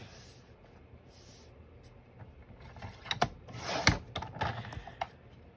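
Paper trimmed from a journal page, giving soft scraping and rubbing strokes that grow louder near the end, with a few sharp ticks, close by and with no talking.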